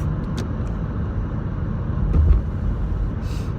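Cars drive and maneuver along a road with a steady low engine and tire rumble that swells slightly near the middle, with no one talking.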